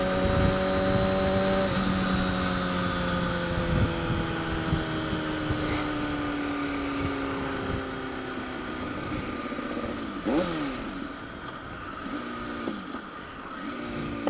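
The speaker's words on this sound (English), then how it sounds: "Every time it backfires, it's just fucking great." A Kawasaki Ninja ZX-6R sport motorcycle engine revs loudly, its pitch sliding up and down under wind rush, punctuated by a few brief, sharp pops.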